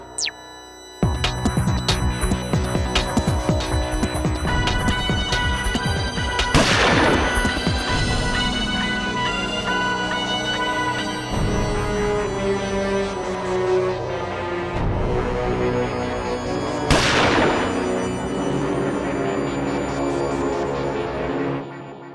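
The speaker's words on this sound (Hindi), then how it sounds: "मैंने गोली चलने की आवाज तो सुनी" Gunshots ring out over loud, continuous music, with two sharp cracks standing out distinctly around the middle and near the end.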